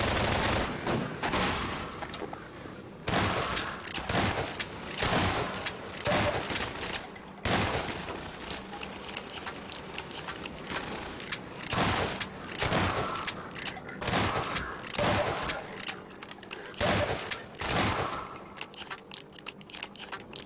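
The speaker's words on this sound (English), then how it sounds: "Shotgun's my favorite." Rapid gunfire bursts from a firefight in the video game Half-Life 2: Lost Coast, repeated loud sharp shots in quick clusters across the stretch, with a few heavier booms among them.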